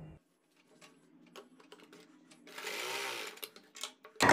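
Sewing machine stitching a basting seam on a top, quiet scattered clicks and handling noises followed by one short close burst of rapid stitching and a final loud knock.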